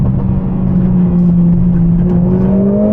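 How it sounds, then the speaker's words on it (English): Mercedes CLA45s AMG engine and aggressive exhaust heard from inside the car, a loud steady drone whose pitch climbs smoothly as it accelerates. "you've just got the insanely aggressive exhaust"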